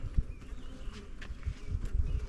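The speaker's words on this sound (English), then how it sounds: "You can see the bees down in there working." Honey bees buzz softly around an open hive frame during queen rearing, a faint, uneven drone with small bumps and rustles nearby.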